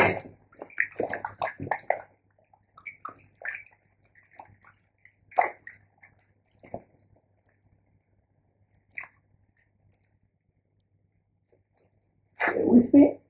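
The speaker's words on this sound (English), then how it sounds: "rinse the hands once again." Hands being rinsed in water while preparing a buon fresco, with intermittent splashing and squishy wet rubbing, a few short bursts and a louder slosh at the end, close and moderately loud with quiet gaps between.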